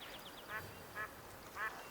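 Wild ducks quacking in a hunting video game marsh: three short, distinct quacks spaced about half a second apart, fairly faint over a quiet ambient background.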